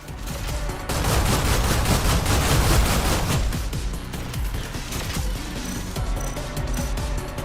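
Rapid bursts of gunfire in the video game Stellar Blade, played on PC in New Game Plus on hard difficulty, rattle loud and dense for several seconds with heavy low-end thumps.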